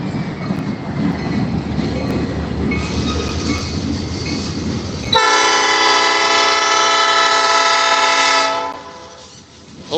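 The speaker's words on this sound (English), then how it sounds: "It's a small little tanker train, but he'll be I think he's going to be switching onto another set of tracks." A small tanker train rolls slowly into a Norfolk Southern rail yard, its wagons rumbling and clanking before loud, sustained wheel squeals ring out close by for several seconds and then fade.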